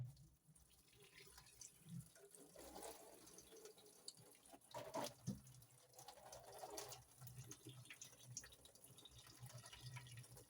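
Water runs from a tap over cooked spaghetti in a pot, a faint steady splashing and trickling with occasional sloshes and clinks as the pasta is rinsed.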